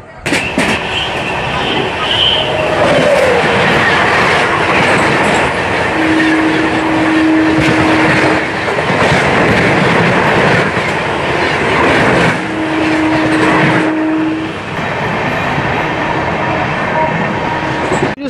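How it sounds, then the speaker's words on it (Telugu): The Ernakulam–Tatanagar Express pulls into platform 3 at Samalkot Junction with a loud, continuous rumble and rattle of rolling carriages, plus two sustained horn-like tones partway through, heard up close. "ఇంతలోనే 3వ నెంబర్ ప్లాట్ఫామ్లోకి వచ్చేస్తుందంటండి ఎర్నాకుళం టాటానగర్ ఎక్స్ప్రెస్ అయితే"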